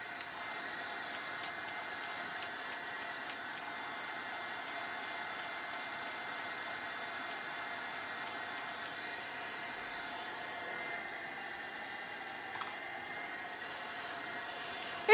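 A heat gun blows a steady, even whoosh while drying fresh paint on a wooden box, continuous and close for the whole stretch with no voices.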